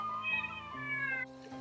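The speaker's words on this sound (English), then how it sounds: "I of course need my handy dandy witch's cat" Sabrina, a pet cat, lets out one long, drawn-out meow close by, with a wavering pitch that trails off near the end. No speech is heard.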